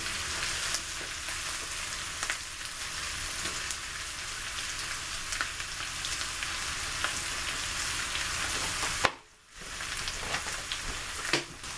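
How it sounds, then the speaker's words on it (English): Potatoes frying in oil in a pan give a steady, dense sizzle that crackles on without pause, dipping briefly near the end before picking back up. "I want to make sure they fry well."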